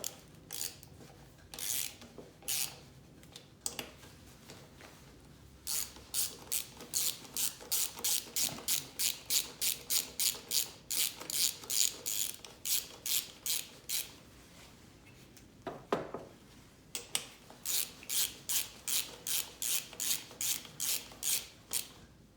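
Ratchet tightening bolts on a Honda GX200 clone small engine during an electric-start install, heard as long runs of fast, crisp clicking strokes, close and fairly loud, with short pauses between bursts and no talking.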